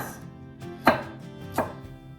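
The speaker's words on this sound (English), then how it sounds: "And then I go from one end to the other and chop really small pieces." A knife chops vegetables into small pieces on a cutting board for chicken noodle soup, two sharp distinct chops against a quiet background.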